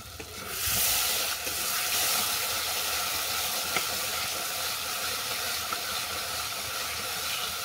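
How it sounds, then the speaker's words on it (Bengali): Spices frying in a pan with curd and sugar, a steady dense sizzle and hiss throughout, fairly loud and close, with faint stirring under it and no talking. "সমস্ত মশলা ভালো করে কষিয়ে নেব যতক্ষণ না মশলা থেকে তেল ছাড়ছে।"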